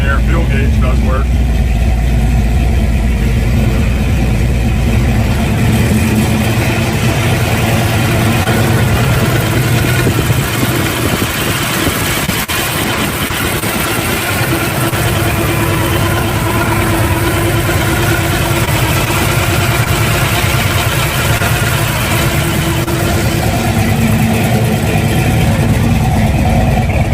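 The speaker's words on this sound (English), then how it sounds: "Awesome sounding exhaust on her." A muscle car built as an SS clone with Sniper EFI idles with a deep, throaty exhaust rumble, loud and close and steady throughout.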